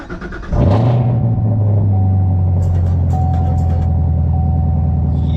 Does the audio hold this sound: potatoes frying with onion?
no